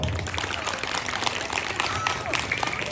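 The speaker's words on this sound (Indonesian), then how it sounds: "Tepuk tangan buat beliau." Applause from a crowd at a religious sermon gathering, a steady wash of many hands clapping for a few seconds with busy, dense texture and no clear talk on top.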